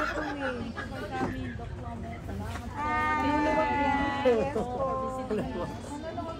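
A young goat bleats in several wavering cries on a dairy farm in Quezon, under people chatting and talking nearby.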